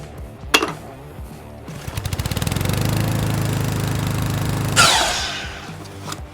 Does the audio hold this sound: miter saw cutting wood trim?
yes